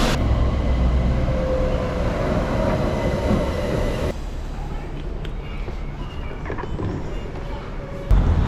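Rumbling interior of a Swiss train running near Grindelwald, a steady loud drone of wheels and carriage noise that drops to a quieter hum midway, then rises again at the end.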